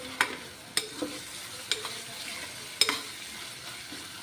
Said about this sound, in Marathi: टॉमॅटोसुद्धा आपल्याला अगदी कच्चेपणा जाईपर्यंत मौसूद असा परतून घ्यायचा आहे